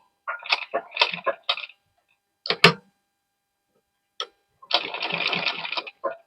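A sewing machine stitches cloth and net fabric with a steady, close mechanical whir lasting about a second, after several short separate handling noises and brief pauses.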